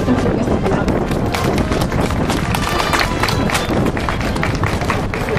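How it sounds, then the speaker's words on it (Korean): An audience at an outdoor street rally applauds, a dense, continuous patter of many hands clapping close and loud throughout. "큰 박수로 부탁드리겠습니다."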